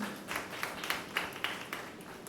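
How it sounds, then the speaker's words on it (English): Faint audience applause at a talk event, with sparse individual claps standing out over a soft, thin clapping background for a couple of seconds. "A big round of applause for him."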